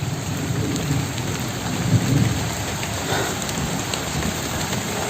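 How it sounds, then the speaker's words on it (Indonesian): Steady rain falling beside a river, a dense close hiss of drops on surfaces with low rumbling mixed in, continuous throughout with no voices. "Padahal ini posisinya hujan loh, malah mereka pada masih di sini."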